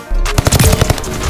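A Vanguard welding gun in a video game fires a rapid burst of loud, close, rattling shots after a brief quiet start.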